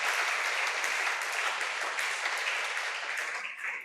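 A church congregation gives a dense, sustained burst of applause, loud and even, that tails off slightly toward the end.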